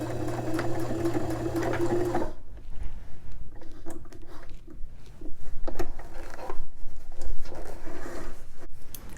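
A sewing machine runs steadily for about two seconds, stitching in the ditch along a cuffed trouser hem, then stops, leaving quiet handling and soft fabric rustles.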